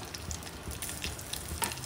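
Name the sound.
coriander and curry leaves crackling in hot oil tempering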